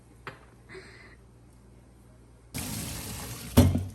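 A drink poured in a home kitchen during cooking: a quiet stretch with faint small sounds, then a splashing burst of liquid and a louder, closer clatter near the end.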